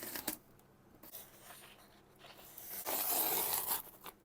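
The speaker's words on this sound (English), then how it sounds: "It feels like the seam is up here, so I will unfold it from this side with my knife." A knife slices open a cardboard shipping box holding a Chinese Telecaster guitar, with scraping and tearing rasps that build to a louder, rougher stretch near the end, close and without talk.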